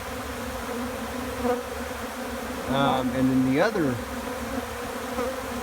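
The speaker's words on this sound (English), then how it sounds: "And you can see there, and there's a lot of bees on there." Many bees buzzing around a hive lid during feeding, a dense close hum with individual insects swooping past, while someone speaks briefly over it.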